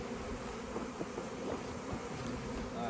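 A swarm of honey bees hums in a dense, continuous buzz, close and fairly loud throughout, with no voices.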